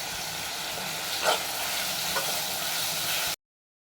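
Tomato sautés in oil in a pan, giving a steady, moderate frying hiss up close, with a couple of brief stirring scrapes and no voices.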